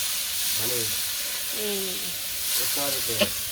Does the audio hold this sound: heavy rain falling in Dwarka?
no